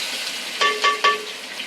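Onion frying in oil with a bay leaf, a steady soft sizzle throughout with three brief louder stirring bursts near the middle.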